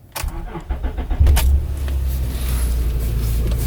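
Honda Accord heard from inside the cabin while driving, a steady low road and engine rumble running throughout with a brief mechanical whir near the start, no talking.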